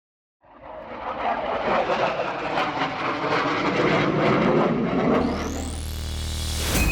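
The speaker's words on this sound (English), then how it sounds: "First flagged by two jets to indicate the plane needs to land." Military jets roar overhead at the Africa Aerospace and Defence Expo, a loud sustained rumble that swells and holds, with a rising whine near the end as an aircraft passes close.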